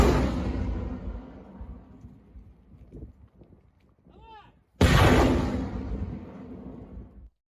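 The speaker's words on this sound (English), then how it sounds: "This is the sound of a salvo from such rockets." A loud, rushing roar of rocket launches, with a burst at the start and another powerful whooshing blast partway through, separated by quieter rumbling.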